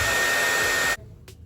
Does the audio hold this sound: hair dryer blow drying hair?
yes